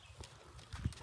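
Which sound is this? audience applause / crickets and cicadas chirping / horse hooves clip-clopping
horse hooves clip-clopping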